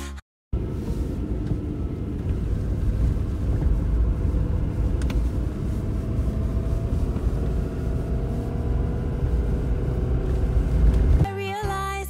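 Steady low rumble of a car driving along a road, heard from inside the vehicle, continuous and fairly loud for most of the stretch before cutting off abruptly near the end.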